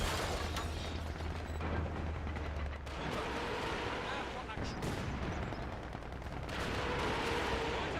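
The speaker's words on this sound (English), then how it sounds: "But I'm gonna try to fire off a barrage." A Katyusha rocket barrage fires in a World War II strategy video game, a dense run of rapid launches and blasts with mechanical clatter over the first few seconds, then more scattered bangs.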